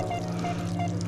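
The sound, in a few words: water pouring out of Unger HydroPower Ultra purification system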